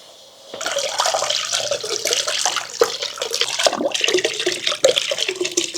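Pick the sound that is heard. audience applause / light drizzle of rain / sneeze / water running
water running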